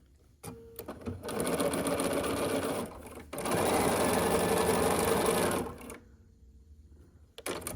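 Sewing machine joining quilt blocks, two close bursts of rapid, even mechanical stitching, each a couple of seconds long, separated by a short pause and followed by quiet handling.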